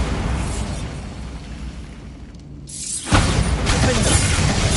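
A Bombarda blasting spell explodes in Hogwarts Legacy, a sudden loud burst following a dip in rumbling background noise, with a sustained roar afterward.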